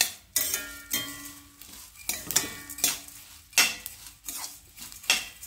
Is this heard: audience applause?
no